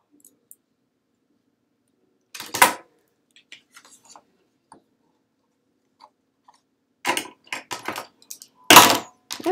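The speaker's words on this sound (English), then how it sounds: "drop my scissors" A pair of scissors clatters onto a hard surface during ribbon and card crafting, giving a few sharp isolated clicks and a cluster of rattling impacts against near silence.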